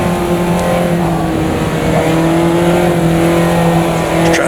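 A Caterham race car in Automobilista 2 at Cadwell Park climbs a hill to a corner exit with slight wheel spin, its engine droning loud and steady throughout with a constant high whine.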